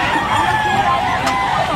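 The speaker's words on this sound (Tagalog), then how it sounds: "Merong nag-dive na manok." Chickens at a pet market, a brief burst of clucking and squawking fowl up close amid bustling background noise and voices.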